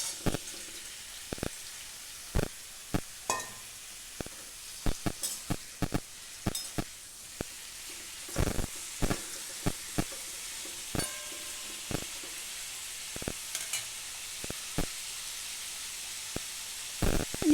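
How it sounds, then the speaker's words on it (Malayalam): Raw banana slices frying in hot oil, a soft steady sizzle punctuated by frequent sharp pops, crackles and occasional utensil clicks, close and fairly quiet, with no voices. "എണ്ണ ചൂടായി. ഇനി അതിലേക്ക് കായ ഇടാം."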